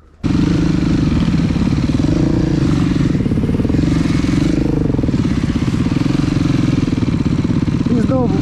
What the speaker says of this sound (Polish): Jest skuter!